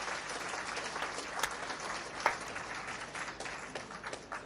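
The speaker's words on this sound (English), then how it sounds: "The crowd claps loudly" A crowd applauds in the video game Kimochii Classroom as a performer takes the stage, with steady, moderately faint clapping and a few sharper claps standing out.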